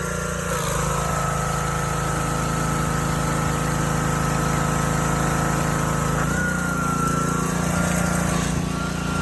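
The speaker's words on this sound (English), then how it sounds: "Once your engine sounds like that, you should be good." A pressure washer's small gasoline engine runs steadily and loudly throughout, a constant droning hum with a slight shift in pitch partway through.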